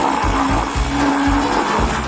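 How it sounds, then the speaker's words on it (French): A kitchen blender churning ice cream with mustard, loud and close, its motor pulsing in short repeated bursts about every half second. "Une boule de glace dans le mixeur et la moutarde ne sera pas superflue."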